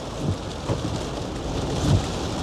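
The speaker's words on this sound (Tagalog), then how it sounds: "lumakas ang ulan" Heavy rain pours down in a dense, steady hiss, with low rumbles and thuds rising through it.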